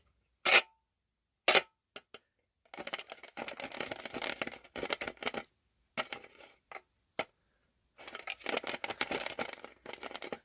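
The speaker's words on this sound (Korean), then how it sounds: "고정되어 있는 나사 6개를 십자 드라이브를 이용해서 하나하나씩 풀어줍니다." Phillips screwdriver backing out six screws, one at a time, from a boiler circulation pump set on the floor: sharp clicks and metallic ticks, then bursts of scraping, ratcheting turning noise that come and go in separate runs, close up, with no talk.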